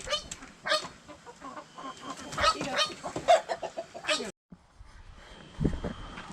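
Baby chicks being moved into a larger coop cluck and peep in quick, irregular bursts under close, frequent talk from people.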